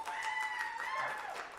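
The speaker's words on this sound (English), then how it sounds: "please give me a round of applause" An audience at an Indy Fringe theatre show claps to vote for a scene, a steady burst of applause over about a second and a half, with a faint tonal ring running through it.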